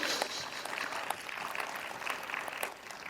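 Applause from an audience at a poetry reading, a modest scattered clapping of light, uneven claps that carries on steadily without fading out.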